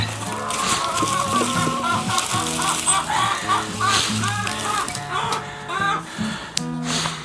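Chickens cluck continuously in a busy, close chorus of short repeated calls, with a brief sharper sound near the end.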